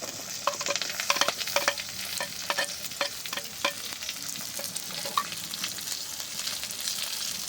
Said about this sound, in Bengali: এবার পটলটাকে খুব ভালোভাবে ভেজে নেব